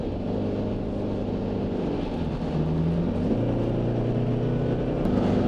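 A Toyota Fortuner's engine accelerating during an overtake in manual mode, heard as a steady loud cabin drone whose pitch climbs and then steps at a gear change, with road and wind noise throughout.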